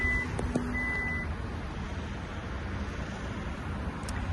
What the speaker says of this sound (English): Close the trunk through the button.